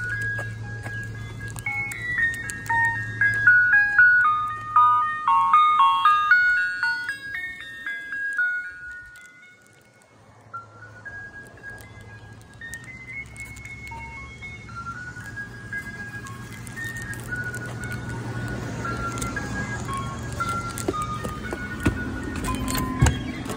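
An ice cream truck plays its tinny chiming jingle, a looping electronic melody that pauses briefly and then resumes, loud and close over a low engine idle.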